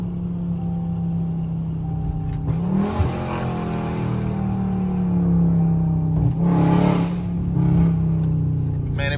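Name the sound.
Dodge Charger Scat Pack with catless mid pipes revving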